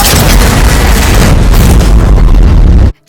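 A body explodes in the film Totally Killer, a loud, dense booming roar that fills the sound for nearly three seconds before cutting off abruptly into silence.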